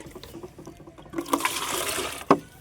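Half a litre of water is poured into a container holding soaked eggshells, a short close splashing gush that swells and ends with a brief slosh.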